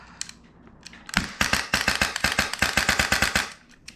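A custom Polarstar Kythera airsoft gun, fed from a 110-round mid-cap magazine and fired with its broken safety engaged, rips off a fast full-auto burst of sharp, evenly spaced shots lasting about two seconds, close and loud, after a few single pops.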